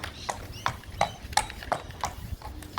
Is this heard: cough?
no